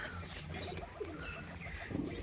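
Pigeons give soft, low cooing calls in a quiet outdoor setting, faint and brief, with a little background chirping.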